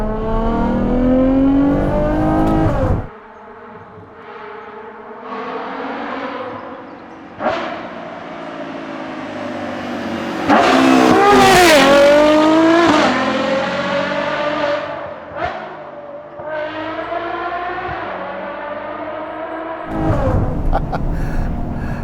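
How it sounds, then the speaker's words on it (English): A Ferrari Purosangue with a Novitec race exhaust revs hard several times, the exhaust roaring up to a loud scream and dropping back between blips, with no talking. "if you fit our race exhaust system or our Novitec exhaust system"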